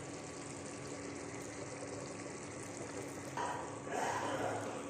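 A pan of prawn gravy boils on the stove, making a steady, dense bubbling hiss that swells louder near the end, with no voices.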